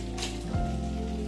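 Fish sizzles in hot refined oil in a kadhai, a steady close crackle and hiss like rain on a surface, with a brief low clunk partway through.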